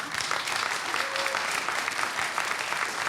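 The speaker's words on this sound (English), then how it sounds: "Please hold your applause till the end" Applause from the audience at a community scoping meeting for a quarry, a steady, dense wash of clapping lasting about three seconds, moderately loud with no voices over it.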